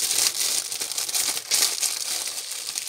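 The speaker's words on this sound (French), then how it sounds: "Bon, c'est parti, on va déballer tout ça." Packaging of a Goldorak Hachette collection part crinkles and rustles while a parcel is unpacked by hand, close and continuous with irregular bursts of crumpling over a few seconds, no talking.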